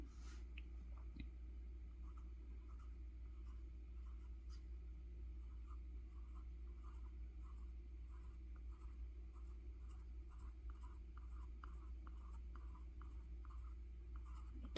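Pen drawing on paper, sketching a cosmos flower in ink, with faint steady scratching strokes over a low background hum, no talking.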